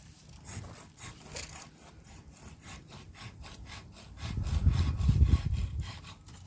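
A handsaw cuts a branch while pruning a jujube or persimmon tree outdoors, giving a rhythmic series of rasping back-and-forth strokes, faint at first and growing louder and heavier near the end.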